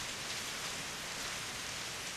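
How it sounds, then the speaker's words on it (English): Heavy rain pours down steadily in the Steins;Gate video game. The downpour is a loud, dense hiss with no break and no voices over it. "In less than a minute, the rain turns into a full downpour."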